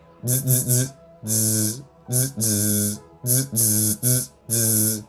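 A voice imitates Morse code, sounding out short and long syllables in quick groups separated by brief pauses.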